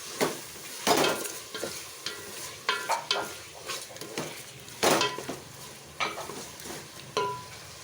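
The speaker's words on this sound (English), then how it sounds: "stir this very well" A spoon scrapes and clanks against a metal pot while mutton biryani ingredients with ginger garlic paste are stirred over heat, with irregular sharp clinks over a soft sizzle, close and alone.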